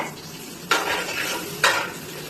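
A metal spatula stirs food in a pan while cooking at home, giving two distinct scraping strokes over a soft background sizzle, close and moderately loud.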